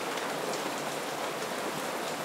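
Steady rain patters densely on a surface, an even hiss of drops close by, with no voices.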